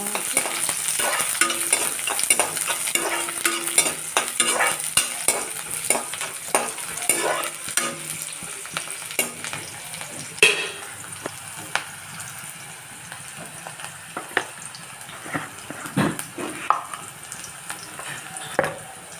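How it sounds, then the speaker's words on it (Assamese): Onion and green chilli frying in hot oil, a busy crackling sizzle with frequent stirring scrapes and clinks throughout, close and fairly loud, no talk over it. "আৰু তেলখিনি গৰম হ'ল, মই এতিয়া পিঁয়াজ দি দিছোঁ।"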